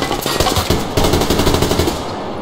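Rapid automatic AK-74 gunfire in the online shooter Survarium, a loud, steady burst of closely spaced shots running for about two seconds with no talking.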